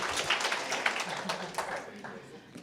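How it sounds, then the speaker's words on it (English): Audience at a Canadian Women in Cybersecurity finals event clapping for a competing team, a modest patter of hands from a smallish crowd that thins out toward the end, with a voice speaking over it. "Just another round of applause for our threat intel stream"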